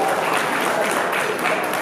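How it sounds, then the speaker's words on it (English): Wedding reception guests applaud a bridesmaid about to give her speech, a steady dense clapping that fills the room for the whole moment, with faint voices mixed in. "please welcome her with a big applause"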